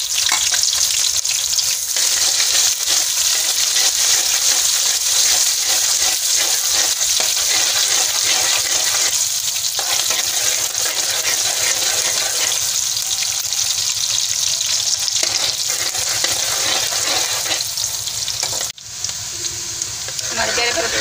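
Onion frying in hot oil in a pan for a methi aloo dish, a loud continuous sizzle close up with occasional stirring scrapes, easing a little near the end.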